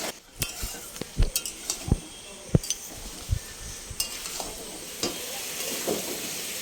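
Cut potatoes and snake gourd fry in oil in a pan, a steady sizzle punctuated by repeated clinks and scrapes of a spatula stirring against metal, close and without talk.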